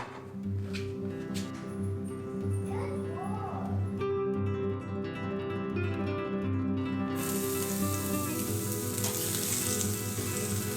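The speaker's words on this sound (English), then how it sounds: "I'm going to saute some onions with some minced garlic, also some mushroom and broccoli." Onions with minced garlic, mushroom and broccoli sauté in a pan, producing a steady, moderate sizzle that runs under tonal background music throughout.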